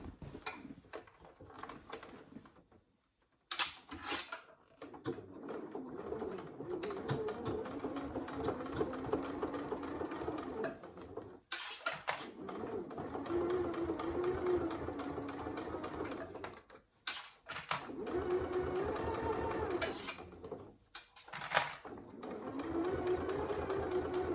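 Sewing machine stitching a saddle bag closed, running in steady bursts of whirring stitches broken by several short pauses, close and alone with no talk.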